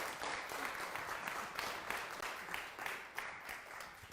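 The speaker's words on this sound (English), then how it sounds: "Come on, let's give him a clap, shall we?" A church congregation claps to welcome their church warden to the front, a steady, moderately dense round of applause heard quite faintly and at a distance throughout.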